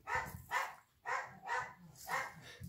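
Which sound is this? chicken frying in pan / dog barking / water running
dog barking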